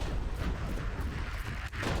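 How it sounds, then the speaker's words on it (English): Weapon explosions in the Borderlands 3 video game form a dense, continuous roar of booming blasts that briefly dips before surging back. "I almost just pushed myself off the map with all the explosions"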